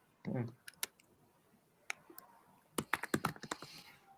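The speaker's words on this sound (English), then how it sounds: "I'm literally just typing in random names" Clicky keystrokes on a computer keyboard, tapped in scattered bursts with short pauses, close and fairly quiet, with a voice briefly present in the room.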